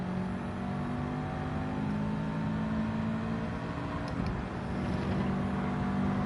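A race car's engine revs high and steady in Gran Turismo 7, a continuous buzzing whine with a brief dip and recovery partway through, with no talking.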